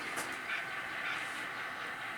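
A small model freight train runs steadily with a faint mechanical whir and light rail clatter, a continuous quiet hiss with no talking.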